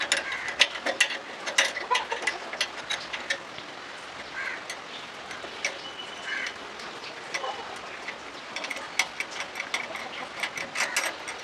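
The nut on a bicycle handlebar being loosened with a tool: bursts of rapid metallic ratcheting clicks, close and fairly loud, with a quieter stretch in the middle and no speech.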